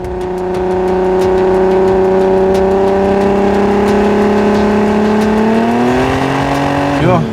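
A VW Caravelle van fitted with a swapped R32 engine and a long exhaust holds a loud, steady humming idle for several seconds. Near the end it climbs sharply into a brief rev.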